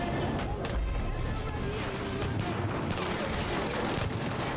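Gunfire in a Baldur's Gate 3 fight, a dense continuous barrage of shots and impacts, loud and close, with no talk over it.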